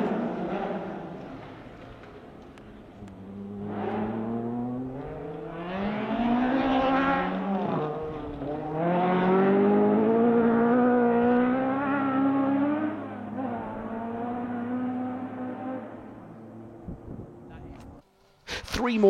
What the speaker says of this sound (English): The sound of the Wales Motorsport built engine echoing around the valley